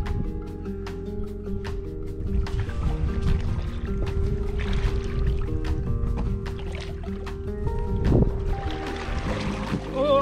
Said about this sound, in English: Need to paddle quick before we get swept out.